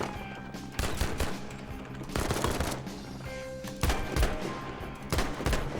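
Mark 6 revolver sidearm firing in the video game Battlefield V, several heavy, evenly spaced single shots in quick pairs with booming low tails, loud and close, no talking.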